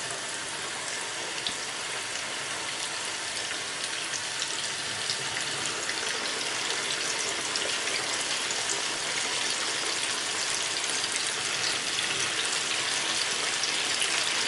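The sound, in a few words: chicken pieces frying in hot oil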